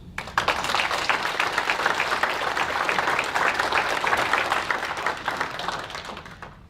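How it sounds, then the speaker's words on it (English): An audience at a business-school workforce development session in Thunder Bay applauds its visiting speakers: steady, dense clapping from many hands, sustained for several seconds at even loudness before easing off slightly at the end. "I think that's worth an applause."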